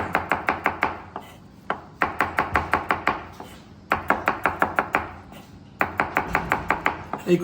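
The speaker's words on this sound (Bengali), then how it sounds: "মাঝখানেতে কাটবো কিন্তু মাথা কাটবো না" Rapid bursts of sharp knife chops on a cutting board as small mola fish are cut through the middle with the heads left on, close and crisp, arriving in quick runs of eight to ten strokes with brief pauses between runs.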